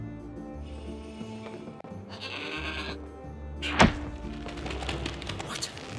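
A goat bleating in the puzzle-platform video game Trine 4, one loud, sharp bleat near the middle over soft ambient music and a few dull thunks.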